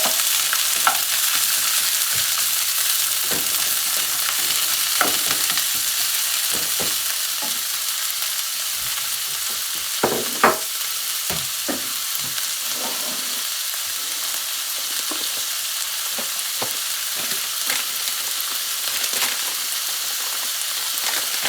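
Carrots, two colours of peppers and peas stir-fry in a hot pan, a continuous bright sizzle broken by occasional stirring clatters and scrapes, close and unaccompanied by talk.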